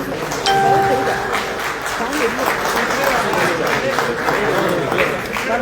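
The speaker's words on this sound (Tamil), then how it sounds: "உங்களுடைய பலத்த கைத்தட்டலை கேட்கிறோம்" Loud, continuous clapping from a crowd at a Tamil political party's concert event in Kuwait, steady throughout, with a bright chime-like tone and some voices mixed in.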